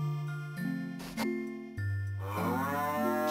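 Cows in the Harvest Moon farming game give several sustained, tonal moos one after another, each call starting abruptly and ringing clearly, with no voices over them.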